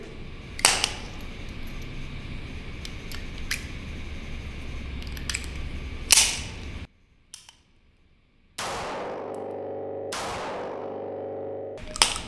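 Several sharp, loud gunshots from a Bond Arms Roughneck derringer chambered in .38 Special/.357 Magnum crack close by, each followed by a short ringing decay, with a brief quiet gap between shots and no talking.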